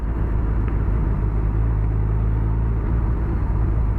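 Suzuki Hayabusa motorcycle cruising on a highway during a morning ride, a steady low engine drone with wind rumble running throughout, continuous and fairly loud with no talking.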